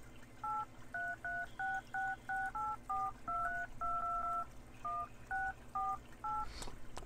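A phone keypad in the horror video game Monster Basement beeps out a dialing sequence of about fifteen evenly spaced tones, with short pauses between groups, fairly quiet with no talk.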